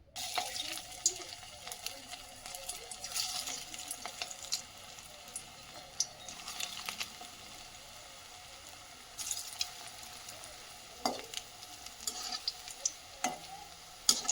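Puffed rice pakoras deep frying in hot oil give a steady low crackling sizzle, with occasional brighter clicks and scrapes of a utensil against the pan.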